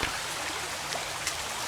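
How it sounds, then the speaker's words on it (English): Water drips from limestone into a creek near Dripping Springs, Texas, landing as faint scattered plinks over a steady wash of flowing water, with a few drops standing out. "This one's dripping a little faster."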